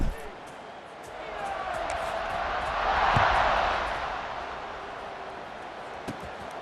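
Stadium crowd roaring at kickoff in an American football video game, a broad wash of noise that swells to a peak midway and then eases back, with a couple of sharp thumps near the end.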